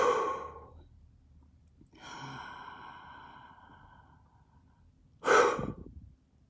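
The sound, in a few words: deep breath in and blowing out hard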